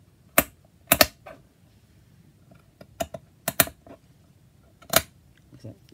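Sharp, sparse snips of scissors trimming fabric scraps for a handmade journal, about eight close, crisp cuts in irregular clusters with quiet pauses between them.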